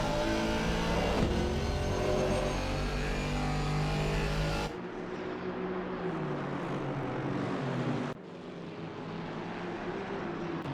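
GT4 race cars in a sim racing game at the Hungaroring, engines droning loud and steady through the turns, shifting to a quieter, rougher engine tone midway with a brief drop before holding on.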